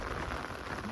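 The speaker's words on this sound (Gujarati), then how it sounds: "વરસાદ આવે છે" Rain falling outdoors in Gujarat, a steady dense hiss of drops striking surfaces, close and continuous with no talk.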